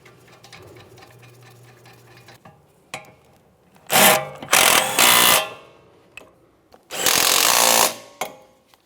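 Rear wheel hub bolts on a 2014-2018 Mazda 3 are driven in: a power tool whirs in loud bursts of about a second each, after quieter clicking and rattling tool handling.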